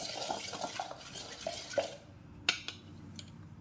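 Thick curd being stirred in a bowl for spiced buttermilk chillies, with scraping and clinking of a utensil against the bowl in short irregular strokes, then a few sharper taps.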